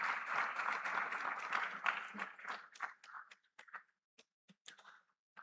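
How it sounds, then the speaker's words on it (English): A summit audience keeps clapping as a speaker crosses to the stage, the applause full and even at first, then thinning into a few isolated claps spaced apart near the end. "Please, can we keep clapping for him as he makes his way across?"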